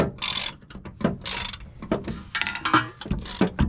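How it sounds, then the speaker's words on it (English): A jack raising a 2009-2014 Acura TL during a coilover install, with repeated ratcheting clicks and metallic mechanical strokes in bursts, close and fairly loud. "Next thing we are gonna do is we're gonna jack it up, and we're gonna get this bolt in."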